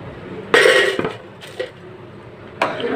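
Ground rice going into milk in a pot for kheer, heard as a few close metallic clinks and scrapes of a utensil against the cookware, spaced over a few seconds.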